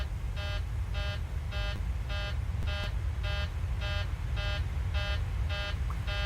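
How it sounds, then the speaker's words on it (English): A Boeing 737-700 cockpit alarm in the MSFS 2020 flight simulator beeps in about a dozen evenly spaced, identical electronic tone bursts, each roughly half a second apart. The beeps ring out loud and steady over a low engine hum, with no talking. "I've not seen this alarm before, folks."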